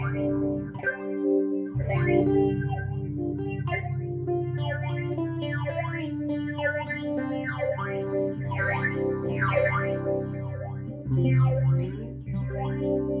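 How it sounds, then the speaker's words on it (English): Mu-Tron Bi-Phase pedal in two-speed phasing mode processing a sustained, continuous instrument line, with swirling sweeps layered at two rates, loud and close throughout with no talking. "So this is called 2-speed phasing."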